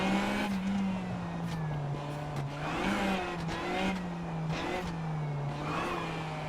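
A rally car on a gravel stage in the racing game WRC Generations, engine revving and dropping through corners with a steady droning note, close and continuous, with faint gravel and tire noise.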